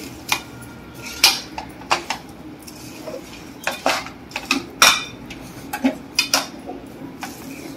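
A dry fruit mixture is stirred and mixed in a pan over a low flame, with repeated sharp metal spoon scrapes and clanks against the pan in an irregular rhythm, close and fairly loud, no speech.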